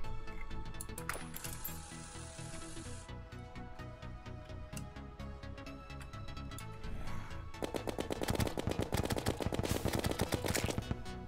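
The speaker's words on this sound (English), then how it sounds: "Maybe I should use my gun." Rapid, repetitive gun firing in Terraria, heard as quick metallic clicking shots over game music, with the shots growing denser and louder toward the end.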